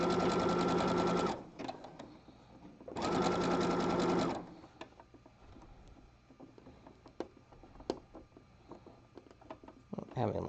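A sewing machine stitches folded elastic on a jockstrap in two steady, close runs of about a second each. Quieter handling and tapping sounds follow, with a person talking.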